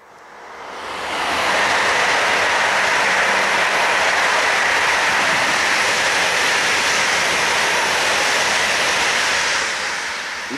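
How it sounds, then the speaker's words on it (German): An ICE Sprinter high-speed train heading toward Munich sweeps past close by with a loud, sustained broadband roar and rush that swells in within the first second or two, then holds steady for about nine seconds. "ICE Sprinter Richtung München."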